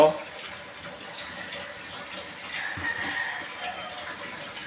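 Water runs from a tap to fill a container before a shower at a country home in Cansilyan, Philippines, a soft continuous rush that swells slightly partway through, fairly faint and steady.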